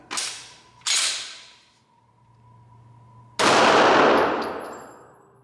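A Springfield XDM Elite Compact 9mm pistol fires at a target: two quick sharp shots, a pause with a faint lingering tone, then a third louder blast with a long ringing tail.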